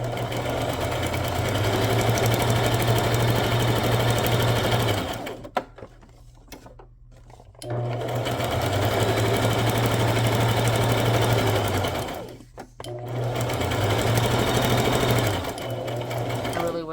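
A sewing machine stitches down a tuxedo-style pocket in loud close bursts of steady whirring, pausing twice briefly between three long runs.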